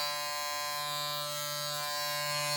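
A Kemei KM 1767 electric clipper runs steadily with a constant, even buzzing hum, close and alone, with no change in pitch or level.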